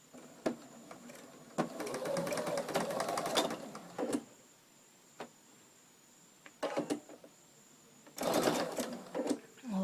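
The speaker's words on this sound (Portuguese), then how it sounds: "E vou costurar unindo as duas pontas" Domestic sewing machine stitching together the two ends of a cotton tea towel, rapid close mechanical whirring in several bursts of a second or two, with a thin steady whine and short pauses between runs.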